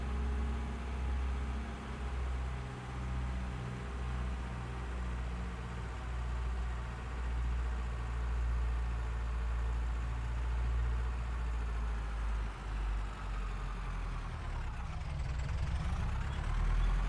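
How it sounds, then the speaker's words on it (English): A restored farm engine idles steadily and loud, its low rumble running evenly throughout with a brief dip in intensity near the end. "And I'll explain everything about the engine warmth and noises"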